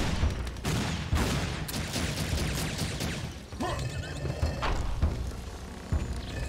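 Dense, continuous Uzi fire from the video game Serious Sam 2, a loud rapid rattle of overlapping shots with crashing impacts throughout.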